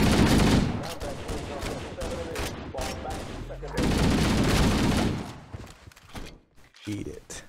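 Gunfire in the Halo: Combat Evolved video game, dense bursts of shots crackling over a steady layer of game noise, thinning out toward the end with a few scattered sharp reports.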